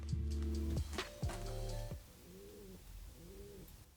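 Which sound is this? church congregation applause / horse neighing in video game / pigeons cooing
pigeons cooing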